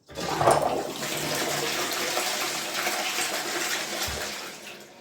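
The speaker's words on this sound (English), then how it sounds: "So all we have to do is flush." A household toilet flushes in a bathroom, a loud rushing swirl of water that surges quickly and then keeps draining steadily for several seconds, heard alone at close range.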